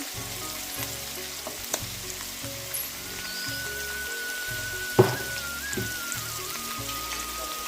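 Chopped green chilli and grated carrot frying for fried rice, a steady close sizzle with a few sharp clatters from stirring, no voices.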